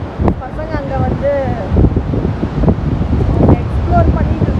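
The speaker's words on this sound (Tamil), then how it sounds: "செம்ம காற்றடிக்குது" Strong, cold wind buffets the microphone at a Pacific Ocean beach in Olympic National Park, Washington, with low gusty rumble and faint surf beneath; children's voices and calls are heard over it.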